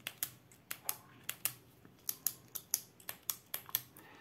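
Button on a Zebra 901 ballpoint pen clicked repeatedly up close, about fourteen crisp, quiet clicks in a fairly even rhythm with no talking.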